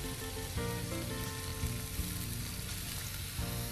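Pieces of meat frying in a pan while being cooked down with meat stock, coated in sour yogurt, ginger-garlic paste and salt; a steady, dense sizzle with a few stirring knocks and no talking.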